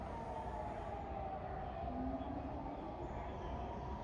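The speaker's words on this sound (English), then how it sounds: "Do you hear it, the air raid siren?" A faint, distant air raid siren in Israel holds a steady drawn-out tone over a constant low background rumble.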